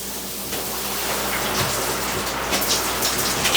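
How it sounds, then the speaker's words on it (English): Steady rain falls outside a boat, a loud, dense hiss with scattered drops spattering on nearby surfaces. No one speaks. "Oh, it's raining out."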